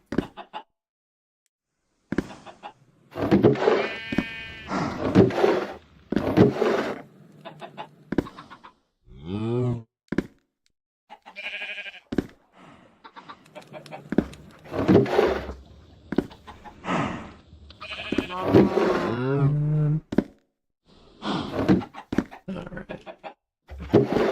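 Chickens cluck and squawk in the ATM10 Minecraft skyblock modpack, in short, clear bursts with silent gaps between, with other farm animal noises mixed in.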